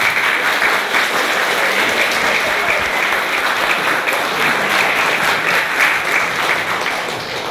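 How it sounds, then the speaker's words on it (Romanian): Sustained loud applause from an audience after a talk on algorithms and fake news in Brăila, dense and even clapping that holds steady for several seconds before tapering slightly at the end. "Aplaudați-vă, vă rog!"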